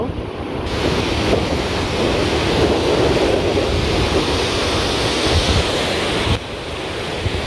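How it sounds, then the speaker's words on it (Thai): Sea surf washing steadily onto the shore at Valldal, Norway, a broad continuous roar with wind buffeting the microphone, close and loud without pause. "เห็นไหมคะ อุ้ยทะเลใหญ่"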